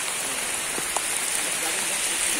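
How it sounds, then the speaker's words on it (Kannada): Heavy monsoon rain in Uttara Kannada pours down as a dense, steady hiss with no let-up, close and even throughout. "ಸಿಕ್ಕಾಪಟ್ಟೆ ಮಳೆ ಬರ್ತಾ ಇದೆ"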